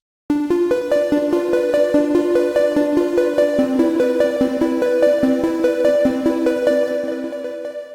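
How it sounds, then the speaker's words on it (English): Glassy keyboard synth patch with a textured multi-tap delay, playing a steady run of bright, bell-like repeated notes whose echoes stack and ring out continuously, loud and close with no voice. "I'll be creating a glassy sounding keyboard synth patch that sounds like this"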